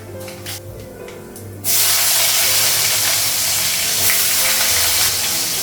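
Cardamom, black cumin and cumin hit hot oil in a pan, breaking into a sudden loud, close, hissing sizzle that holds steady after a quieter start.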